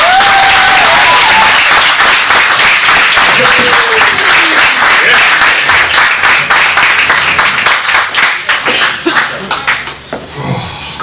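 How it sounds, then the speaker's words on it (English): A comedy club audience in Thunder Bay, Ontario breaks into loud, sustained applause and scattered cheers that gradually thin out toward the end, with a host's voice briefly heard over the clapping. "Let's hear it for Neil Griffin."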